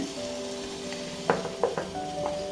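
Dosa batter sizzles steadily on a hot nonstick griddle, a constant hiss with a few metallic clinks from a utensil partway through.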